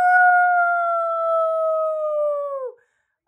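A human voice imitating a wolf howl gives one long, loud, steady wail that holds its pitch and then drops off sharply at the end, close to the microphone with no other sound.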